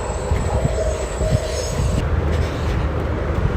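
A metro train rolls past outdoors, a steady loud rumble of wheels and carriages with a faint high squeal, continuous through the whole stretch.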